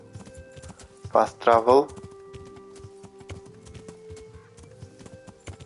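A horse's hooves clip-clop steadily at a gallop in the video game Kingdom Come: Deliverance, a quick run of ticking beats that carries on under a brief spoken phrase.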